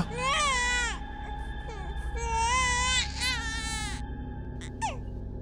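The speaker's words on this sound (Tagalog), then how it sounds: "Parang sanggol pero baka naman tiyanak yun." An infant wails in long rising and falling cries, a few drawn-out sobs in a row, loud and close over a low background hum, with no speech.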